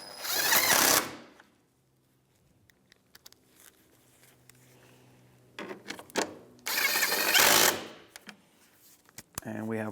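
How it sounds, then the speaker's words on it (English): Ten-millimeter bolts are run back into a 2015-2019 Hyundai Sonata bumper, with two loud, close bursts of mechanical whirring and ratcheting about a second long each, separated by quieter clicks and handling noise. "we can reinstall our 10 millimeter bolts"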